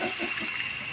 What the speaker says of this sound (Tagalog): Ganyan lang ang gripo namin.